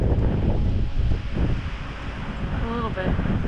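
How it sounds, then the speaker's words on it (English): Strong wind on the Deep Gap Trail near Mount Mitchell in fall, loud continuous gusty rumble buffeting the microphone, with a brief voice near the end. "Think it's been a little windy here?"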